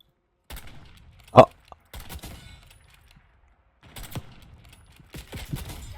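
Video game gunfire comes as one loud sharp shot, followed later by scattered bursts of fainter shots, with a voice talking over parts of it.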